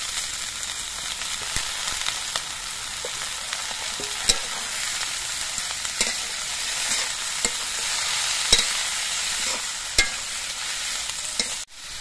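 Bottle gourd peels and onions fry in a pan, giving a loud, continuous sizzle broken by occasional sharp clinks from stirring, with no voices.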